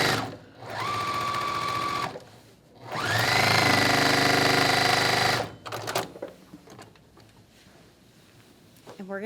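A sewing machine stitching quilt block seams runs in two steady whirring bursts, the second longer with its motor pitch rising, followed by lighter clicks and handling noise as a person talks.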